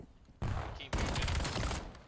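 Rapid gunfire bursts in a competitive Search and Destroy match of a first-person shooter, loud and close, with a short burst followed by a longer sustained volley lasting over a second.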